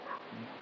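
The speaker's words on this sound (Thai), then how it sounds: "มีเสียงหมาเห่า" A dog barks and yelps briefly at a distance, a short faint whining burst that comes and goes within a moment.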